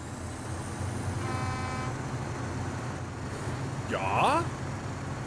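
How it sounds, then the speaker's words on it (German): A truck horn in the SnowRunner video game (Azov AM-8 14) sounds as a short, steady tone, followed by brief squealing tones, over a low engine rumble with no talk. "Hupe?"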